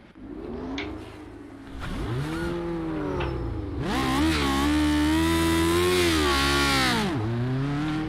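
Classic Lotus race car in the iRacing game launching at Phillip Island on a manual clutch, the engine revving in repeated rising and falling sweeps before a sustained loud high-rev pull that dips as it shifts.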